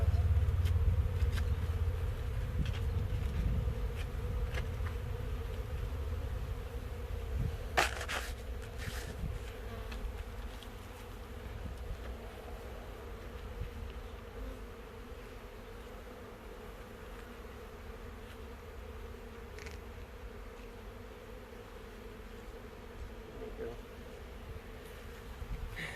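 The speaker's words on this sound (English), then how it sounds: "We've got our bees installed from Nuke Packages." Honeybees from a newly installed package hive buzz continuously close by, a dense, steady drone that swells a little at the start and softens toward the end, with brief rustles and knocks along the way.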